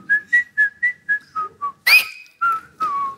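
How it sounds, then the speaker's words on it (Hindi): A person whistles on a talk show: a run of short, evenly spaced piercing notes, then a sharp rising blast and two longer sliding tones, loud and alone. "अपनी फिल्म की सीटी मारी"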